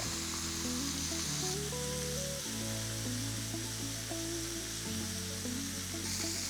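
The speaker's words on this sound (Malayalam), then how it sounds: "നല്ല ബ്രൗൺ ആകുന്ന വരെ 2 സൈഡും തിരിച്ചു മറിച്ചിട്ട് ഫ്രൈ ചെയ്തെടുക്കുക." Chicken pieces frying in a pan, a soft steady sizzle running throughout beneath louder background music, faint and continuous.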